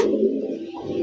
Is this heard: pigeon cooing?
yes